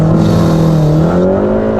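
A 400+ bhp Stage 2 VW Golf R with Haldex all-wheel drive launches hard on tarmac, its engine roaring loud and close as the pitch climbs steadily through the run with no talk.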